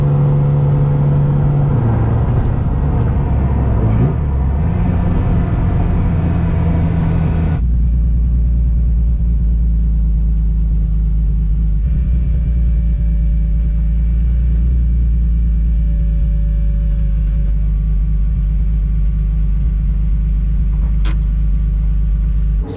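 A car at a race track with a line lock valve fitted for skids idles and rumbles loudly and steadily throughout, with a brief shift in engine tone early on and no talk.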